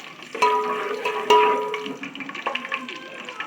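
Curry leaves hit hot oil in a pan while cooking a Chettinad chicken gravy, setting off a sudden hissing burst. A second splash of sizzle follows, then a fading crackle close up, with no talking.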